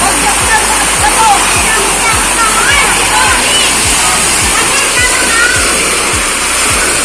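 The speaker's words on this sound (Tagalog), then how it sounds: "Ito ay isang ilog na dinevelop para mapaliguan." Broad, steady rushing of river water at a developed bathing resort on Pansol River in Silang, Cavite fills the scene, loud and constant with a faint regular low thumping underneath.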